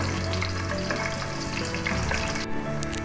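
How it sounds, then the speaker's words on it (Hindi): Garlic sizzles steadily in hot oil in a pan, browning to a light golden colour while cooking Bengali pea keema; the dense, even frying hiss fills the whole stretch without any talk. "अभी हम इसमें शामिल कर देंगे लहसुन। लहसुन को हम हल्का गोल्डन ब्राउन करेंगे।"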